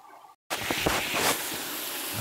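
Water from a hose runs into a tank at a rural farm, a steady, fairly close rushing splash that starts abruptly after a brief silence and continues unbroken.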